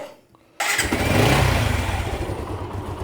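A motorcycle with an anti-theft device wired into its pickup line starts after a short near-silent pause, then settles into a loud, steady running engine close by. No one speaks.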